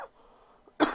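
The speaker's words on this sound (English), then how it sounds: "Drinking a Pepsi, it was frozen. Makes me cough when I drink it." A single sharp cough near the end, following a quiet stretch, from someone who has been drinking a frozen Pepsi; loud and close, with no talking.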